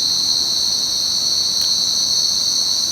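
A cricket chirps as a loud, close, unbroken high-pitched trill that holds steady for the whole stretch, with no voices.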